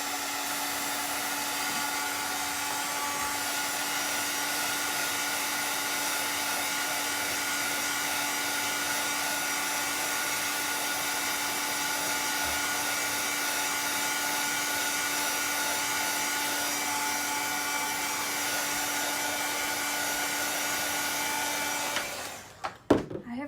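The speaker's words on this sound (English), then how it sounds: "Actually, I got the dryer here." A hair dryer blows steadily on painted pieces of a 3D scarecrow craft, a loud continuous whir with a faint whine that holds for about twenty seconds, then is switched off with a few clunks of handling.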